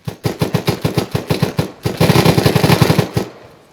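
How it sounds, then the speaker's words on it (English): Automatic rifle fire in the ArmA 3 video game, loud rapid bursts of evenly spaced shots close by, quickening into a denser volley before stopping abruptly; no talk over it. "Where's fire coming from?"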